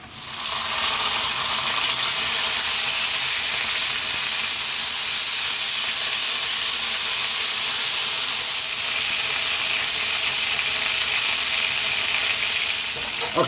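Bacon sizzles steadily in a pan for an English breakfast, a loud, continuous crackling hiss with no talking.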